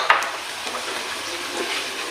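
Cumin seeds drop into a hot frying pan with a sharp initial hit, then a steady, fairly loud sizzle continues for a couple of seconds, with no talk.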